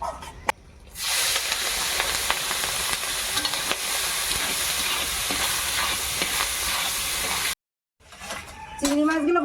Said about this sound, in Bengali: এবার চিংড়ি মাছগুলো ভেজে নেব ওই একই তেলের মধ্যে।